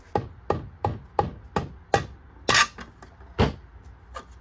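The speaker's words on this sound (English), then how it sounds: "Just tap the edges of the compressor with a hammer lightly in a circle all the way around" A hammer taps lightly around the edges of an engine compressor, around ten sharp metallic knocks in a fairly even rhythm with short pauses between, close and clear with no talking.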